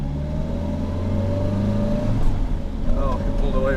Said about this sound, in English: old 4-cylinder with the most generic 4-cylinder sound